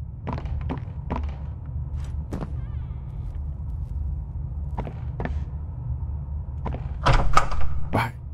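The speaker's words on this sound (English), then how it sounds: "I'm trying to open up the drawers and see." Drawers being pulled open in the horror video game Poppy Playtime: Chapter 3, giving a run of hollow wooden knocks and thuds at an uneven pace, ending in a louder, rattling clatter. No one talks.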